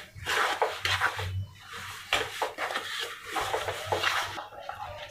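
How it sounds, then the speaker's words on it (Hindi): Sugar being stirred into sweet corn halwa in a pan, giving repeated scraping and clinking of a spoon against metal in uneven bursts, close and fairly loud, with no talking. "शक्कर डाल के मिक्स करेंगे।"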